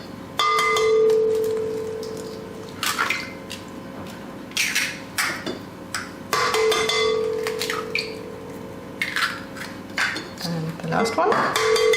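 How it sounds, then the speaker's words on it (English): Five eggs cracked one after another against a bowl edge while making German Elisen gingerbread batter, giving sharp clinks and taps with a steady hum and some talk in between. "now I use my eggs and start to make the batter. I have 5 eggs."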